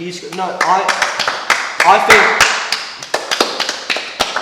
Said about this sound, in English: Round of applause to this guy.